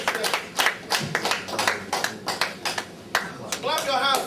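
Congregation in a church clapping hands for the Holy Spirit, a quick rhythmic series of claps, close and fairly loud, with a voice speaking over them.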